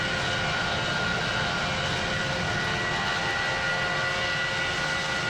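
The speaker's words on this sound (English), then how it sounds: "Was that a good takeoff, guys?" A steady, loud jet engine roar from an Airbus A320 taking off in the flight game PTFS, with constant broadband rumble and whine throughout and no voices.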